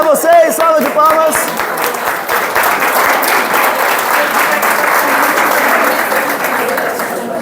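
A training-session audience at a school claps in loud, sustained applause; a few voices and shouts ring out at the start before the dense clapping settles into a steady roar that fades slightly at the end.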